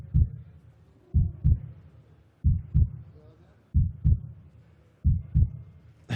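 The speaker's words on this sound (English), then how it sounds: "I think they do the heartbeat thing on purpose in the background just to make everybody there nervous." A heartbeat sound effect plays over the arena speakers at a STIHL Timbersports pro cup lumberjack competition: deep, muffled double thumps repeating about every 1.3 seconds, with low crowd ambience between beats.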